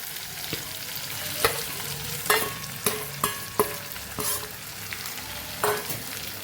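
Okra and potatoes sizzling in a pan, with a steady fry under a series of sharp scrapes and clacks from a spoon stirring at uneven intervals.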